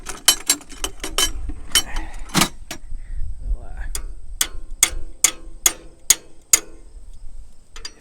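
A loose nut rattles on a hay mower, producing loud, sharp metallic clicks in an irregular then steady ticking pattern, close by, with some low rumbling between.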